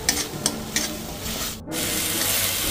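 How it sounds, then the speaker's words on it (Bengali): Tomato and onion spice paste fries in oil in a pan for a mustard river-fish curry. A few spoon scrapes stir it at first, then a continuous loud sizzle takes over. "জলটা শুকিয়ে যাবে, তাতে মশলাটা ভাজা হয়ে যাবে, সুন্দর একটা গন্ধ ছাড়বে, আর গা দিয়ে তেল ছাড়বে"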